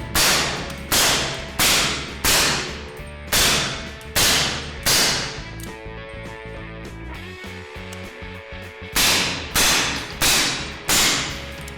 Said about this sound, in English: being inside a concrete box with this firearm and this suppressor with the subsonic ammo, it's not that bad